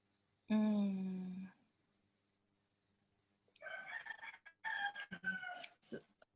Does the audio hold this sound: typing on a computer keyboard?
no